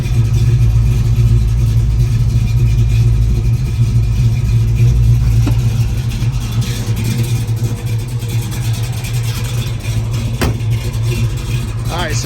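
A 1968 Shelby GT500KR V8 with a hotter-than-factory bigger cam runs just after start-up, a loud, steady low rumble with a lumpy idle and occasional light blips, close by throughout.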